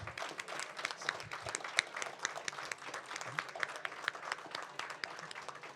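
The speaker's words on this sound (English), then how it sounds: "Give yourselves one more round of applause for just always being awesome and authentically you." An audience at a Summer Games Done Quick cosplay showcase breaks into a steady, fairly faint round of applause, with dense clapping that continues throughout.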